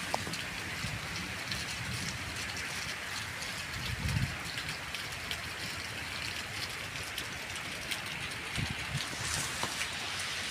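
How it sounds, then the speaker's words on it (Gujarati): Heavy rain falls continuously, a thick wash of hiss and patter with occasional louder splashes nearby. "આ બાજી બહુ પડે વરસાદ"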